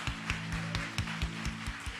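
Hand clapping at a church worship service, a steady rhythmic beat of claps roughly four per second, close and moderately loud over a low sustained musical tone.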